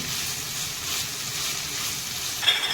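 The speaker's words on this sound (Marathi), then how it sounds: "मस्त असा कांदा ब्राऊन होईपर्यंत परतून घ्यायचा" Chopped onions fry and sizzle in a pan for a Marathi-style prawn biryani, a steady close hiss with faint stirring and no talking.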